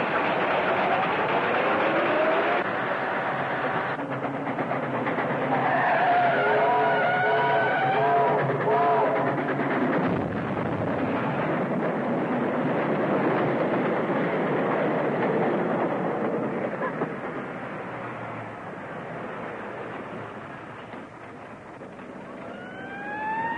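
A car speeds toward a railroad crossing as a train rumbles loudly and steadily for a long stretch, a whistle or horn tone rising above the roar, the noise easing slightly near the end.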